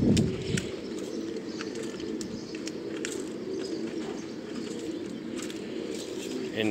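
Sialkoti pigeons of a pure breed coo in a low, steady murmur throughout, with faint chirps and scattered clicks over a continuous background of bird sounds.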